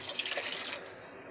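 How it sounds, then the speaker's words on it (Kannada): Water is poured into a pot of chicken sambar in a short, close splashing stream lasting under a second, then trails off into quiet. "ನನಗೇನು ಸ್ವಲ್ಪ ನೀರು ಹಾಕಬೇಕು"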